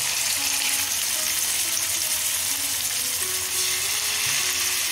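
Spice-marinated chicken pieces fry in hot oil, giving a dense, continuous sizzle and crackle that holds steady and close throughout, with no talking.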